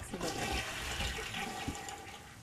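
A toilet in The Sims 3 flushes in one continuous, near, rushing swirl of water that lasts throughout.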